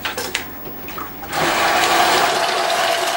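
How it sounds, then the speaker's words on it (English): A pump circulating descaling solution through a tankless water heater starts up after some clicking handling noises, then runs as a loud, steady rushing whir of liquid. "you can connect the pump"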